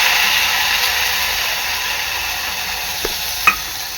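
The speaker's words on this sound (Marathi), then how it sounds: "यामध्ये मी अद्रक, मिरची, कोथिंबीरचं वाटण टाकते" A ground paste of ginger, chili and coriander hits hot oil with browned garlic in a pan for a tuna fish curry, giving a loud, steady close sizzle and hiss with a couple of small clicks of stirring near the end.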